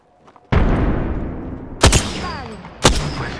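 A grenade explodes in Apex Legends with a sudden loud, close blast and a long rumbling decay, followed by two sharp, separate bangs a second apart.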